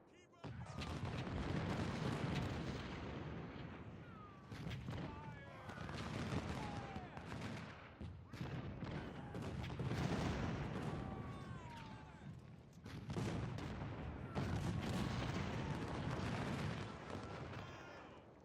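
Cannon fire from a Bull Run battle in Ultimate General: Civil War rumbles in dense, overlapping booms and crackling volleys that swell and fade across the whole stretch, loud and continuous with brief lulls between waves.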